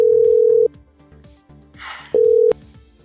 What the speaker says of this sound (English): Right, it's ringing.